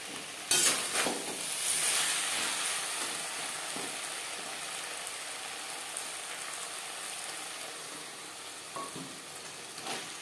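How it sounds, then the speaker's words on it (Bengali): Flat beans fry with spices in a pan over a high-to-medium flame, giving a steady crackling sizzle with occasional sharper pops and stirring scrapes, fairly close and unaccompanied by talk. "4-5 মিনিট মশলার সাথে শিম রান্না করব। রান্নাটা করব হাই টু মিডিয়াম ফ্লেমে।"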